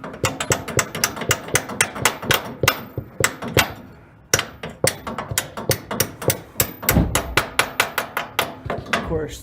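A hammer strikes repeatedly against a rusty door hinge pin, dozens of sharp metallic blows in a steady, rapid rhythm, close and loud, with a brief pause midway before resuming.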